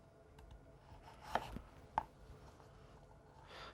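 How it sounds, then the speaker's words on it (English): A kitchen knife slices down through carrot into thick batons on a board, giving a couple of crisp, quiet chops in an otherwise hushed room. "holding the knife against them, and then just slice down"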